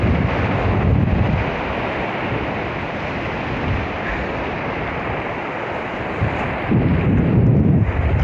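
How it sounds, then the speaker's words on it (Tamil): Strong wind buffeting the microphone at a rocky lakeside beach, a steady loud roar with heavier gusts at the start and end, surf faintly mixed in. "காத்து ஓவர் அடிக்குது"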